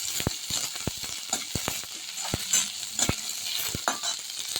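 Onion and cabbage sautéing in a pan: a quick, uneven run of sharp spatula taps and scrapes against the pan over a steady background sizzle.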